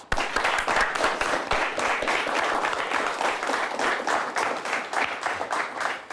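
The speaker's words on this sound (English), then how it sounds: "Let's give them both a nice round of applause." Dense, sustained applause from a studio audience at a high school quiz show, many hands clapping together evenly and fairly loud for the full stretch without letting up.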